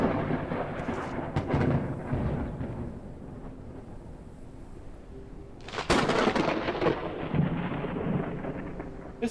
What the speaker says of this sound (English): This lightning is fucking loud.